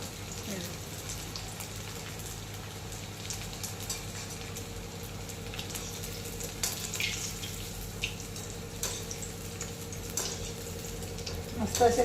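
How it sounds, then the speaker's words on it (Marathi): Leftover-rice pakoras frying in hot oil until crisp, a steady soft hiss and fine crackle that keeps up throughout, fairly quiet, with a voice talking over it. "खरपूस होईपर्यंत तळून घ्यायचे"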